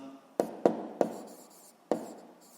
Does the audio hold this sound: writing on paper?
yes